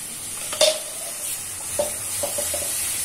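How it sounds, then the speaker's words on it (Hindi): Mashed overripe banana fries in a pan, giving a soft sizzle close by, broken by a few scraping stirring strokes. "अब जो हमने ये केला पीसा था ये भी हम इसमें डाल देंगे, और इसको भी हमें भूनना है।"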